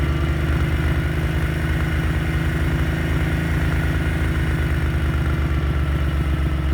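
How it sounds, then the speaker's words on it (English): A bevel-drive motorcycle engine idles steadily up close, a constant low, throbbing mechanical drone with a rapid regular beat and slight clatter, unchanging for the whole stretch with no voices. "I close the throttle. It idles nicely."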